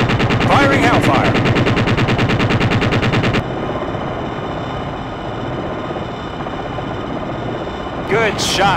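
Rapid bursts of heavy automatic cannon fire from a Longbow attack helicopter in a video game rattle loudly for a few seconds, then give way to a steady rotor-like drone, with a short voice near the end.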